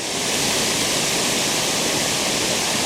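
A waterfall on Cedar Run in Shenandoah National Park pours steadily into a plunge pool, making a loud, constant, dense roar with no breaks and no voices.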